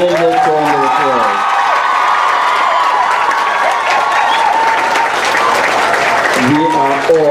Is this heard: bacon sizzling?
no